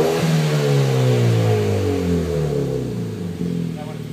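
A 2013 Hyundai Veloster Turbo fitted with an 18-inch round MagnaFlow-style muffler revs up from idle and then holds steady. The exhaust tone is loud and close, a rising drone that settles into a sustained throaty note.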